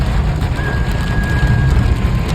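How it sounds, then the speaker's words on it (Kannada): Heavy rain pours down in a forest in a loud, steady hiss, drumming hard and close on surfaces with no letup. "ಮಳೆ ಹಂಗೆ ಜೋರು ಜೋರು ಬರತೈತೆ"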